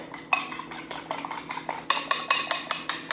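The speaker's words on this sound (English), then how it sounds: "Give it another quick whisk." Eggs seasoned with salt and pepper are whisked in a bowl, making a steady run of quick, close clinking strokes as the whisk hits the sides, with no talking.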